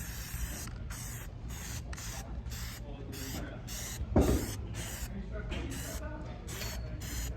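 Plasti Dip rubber coating sprays from an aerosol can onto a reading light in a run of short hissing bursts with brief gaps, close and moderately loud, with a small clunk near the middle.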